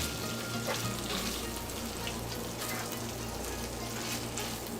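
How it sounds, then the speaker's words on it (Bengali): Beef tripe fries in a pan over high heat, making a loud, continuous, even sizzle with faint stirring and no speech. "এবার 8 থেকে 10 মিনিটের মতো মোটামুটি হাই হিটে ভুঁড়িটাকে ভেজে নিতে হবে।"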